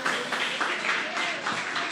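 Church congregation clapping loudly in steady applause, with voices and cheering mixed in throughout.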